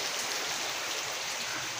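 Steady, dense rain pours down, a continuous broadband hiss of drops hitting surfaces with no voices.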